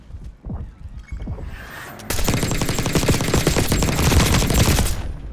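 Sentry gun firing in Black Ops 6, a sustained close, loud burst of rapid automatic shots starting after a couple of seconds of scattered thuds and lighter fire.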